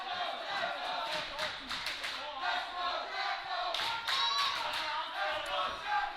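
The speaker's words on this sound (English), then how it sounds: "You can hear this crowd here getting behind Kid Jocko." A crowd at a live wrestling event claps and cheers in rhythmic bursts, with rising chants and shouts filling the hall while a commentator talks over them.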